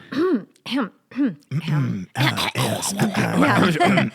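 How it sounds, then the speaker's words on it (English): Several people clear their throats loudly, a few separate rasping efforts at first, then overlapping into a noisy chorus of hacking and grunts. "Everybody clear your throat."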